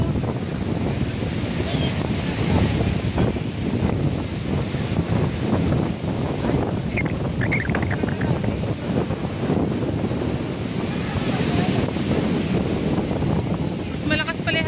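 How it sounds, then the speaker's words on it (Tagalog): Strong wind buffeting the microphone on a Boracay beach, a constant loud roar mixed with breaking surf, with people talking intermittently underneath. "Mas malakas pala yung hangin ngayon, no?"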